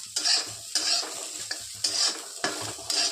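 Dry ingredients scrape and rustle as they're stirred in a pan, about six sweeping strokes in a steady rhythm, close and clear.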